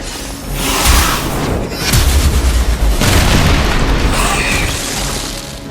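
A video game grenade goes off in heavy booming blasts, loud and dense, with several rumbling explosive bursts overlapping across the scene and no clear pauses between them.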